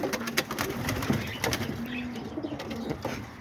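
Homing and roller pigeons coo softly in a repeated low rhythm, several birds close by with some wing flutters and chirps mixed in.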